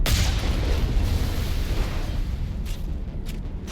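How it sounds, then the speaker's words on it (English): A rocket explosion in the Mass Effect video game opens with a loud, close, broadband blast. A rumbling roar follows and slowly fades, with a few faint sharp clicks near the end. "I took a rocket from something."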